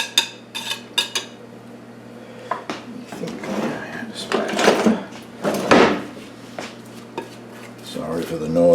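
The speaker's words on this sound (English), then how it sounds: "Sorry for the noise, me banging drawers too here." Kitchen drawers and cutlery clatter nearby while an apple skillet cake is prepared, with sharp knocks, rattling metal utensils and dish clinks coming in irregular bursts, and a person briefly talks.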